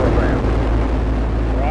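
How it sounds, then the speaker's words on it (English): Space Shuttle Endeavour's boosters ignite and the rocket lifts off in a loud, continuous roaring rumble with deep low-end power. A voice speaks over the sound. "Booster ignition and liftoff."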